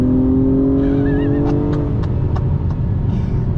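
A 2021 Acura TLX Type S turbocharged sedan on Pirelli P Zero summer tires climbs steadily through its rev range, a loud, continuous engine drone with rising harmonics and a few sharp ticks layered over it.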